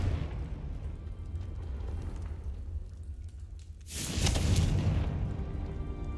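A Confringo fire blast explodes in Hogwarts Legacy with a sudden loud, broad whoosh and boom partway through, rising out of low rumbling game ambience and fading over about a second.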